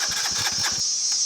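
A Honda farm bike engine cranks with a quick run of rhythmic chugs for under a second, then cuts out, leaving a faint hiss.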